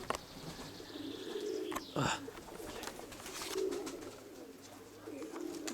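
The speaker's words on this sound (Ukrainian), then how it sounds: "Це ця голубочка дивно зараз починалася." Pigeons cooing softly at a dovecote, low repeated coos with a brief burst of wing flapping midway, close but quiet against faint ambient noise.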